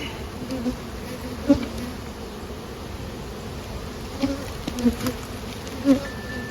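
Honey bees buzzing around a hive from a small swarm being boosted with nurse bee frames: a steady close drone of many insects with occasional louder passes of single bees near the microphone.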